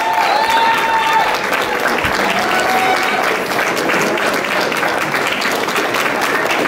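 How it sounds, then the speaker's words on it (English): Loud, full audience applause for a Hungarian folk dance troupe at a European Christmas event in New Prague, Minnesota, with dense steady clapping, a few whistles and cheers mixed in, and a voice briefly over the crowd. "let's give a big round of applause for the Videki Hungarian dancers"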